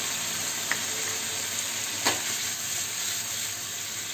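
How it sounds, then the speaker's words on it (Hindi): Salt, chilli powder, white pepper powder and turmeric sauté with paneer in a hot pan for chilli paneer gravy, a loud, even hiss of frying with a couple of light spatula taps and no talking. "अब इन सबको हमें अच्छे से सबको इस तरह से करके सॉटे करना है।"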